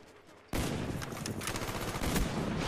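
Loud, close L96 sniper rifle fire in Black Ops erupts abruptly after a quiet half-second, followed by dense, sustained gunfire and battle noise that continues to the end.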